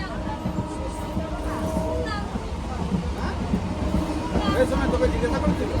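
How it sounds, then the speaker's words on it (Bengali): A moving passenger train rumbles steadily with a low, continuous roar and faint rhythmic clatter, heard from inside the carriage with a murmur of voices. "সবাই ট্রেনে চেপে পড়েছি"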